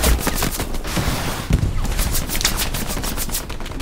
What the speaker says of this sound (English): a lot of explosions right there